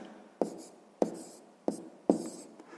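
Pen or pencil writing numbers on paper during a sixth-grade maths exercise, four sharp taps or strokes spaced about half a second apart, each with a short scratchy tail, close and quiet.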